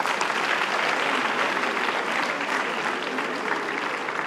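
A hall audience applauding nurses at a Nurses Day speech gives dense, sustained clapping that stays loud and even from start to finish, with a faint murmur of the crowd underneath.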